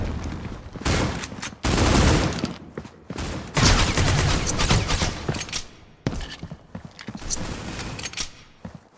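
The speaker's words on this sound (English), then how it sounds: "A lot of bullets flying, not a lot of death." Rapid gunfire in the mobile shooter Critical Ops during a competitive playoff match, dense bursts of automatic shots and single cracks in several clusters, loud and close with brief gaps between.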